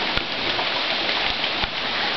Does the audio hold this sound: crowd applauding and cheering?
no